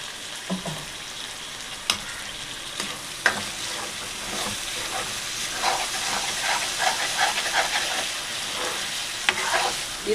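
Tomatoes frying in a pan for a North Indian-style white peas gravy, giving a steady loud sizzle and hiss with scattered stirring clicks and pops throughout.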